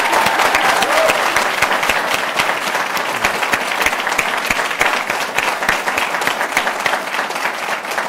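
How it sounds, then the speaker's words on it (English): An audience at a Georgia State University event claps steadily after student names are read out, dense, even applause that holds at a constant level throughout. "How about a big round of applause for them?"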